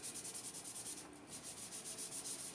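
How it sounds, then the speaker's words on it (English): Hand sanding with fine 400 grit sandpaper on a workshop piece, a quiet, steady rhythm of quick back-and-forth rasping strokes, heard alone with a brief pause partway through. "I am now switching to some 400 grit sandpaper for really finishing off that"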